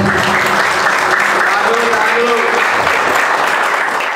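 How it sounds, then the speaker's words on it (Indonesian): Steady applause from a crowd at a ceremony handing over an appointment decree, continuous and fairly loud, with faint speech-like tones mixed in underneath. "Tepuk tangan."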